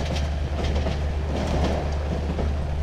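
A train rolls steadily in the Cry of Fear video game, a continuous heavy rumble with faint rhythmic clatter from the wheels, close and sustained throughout.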